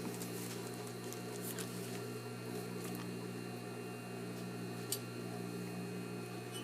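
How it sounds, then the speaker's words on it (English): A sewing machine stitches a sleeve onto a shirt-dress with a half-inch seam allowance at a 2.5 stitch length, its motor humming steadily and close by throughout, with faint ticks and no talking. "I'm going to sew with the sleeve on the top."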